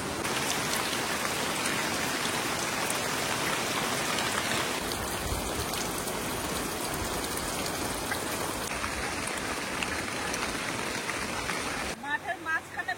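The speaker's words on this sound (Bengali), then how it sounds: "আজকে বৃষ্টি হচ্ছে, প্রচুর পরিমাণে বৃষ্টি হচ্ছে।" Heavy rain pours steadily around a thatched hut in open green fields, a dense, constant hiss of drops on surfaces heard close by, ending with a few sharper patters.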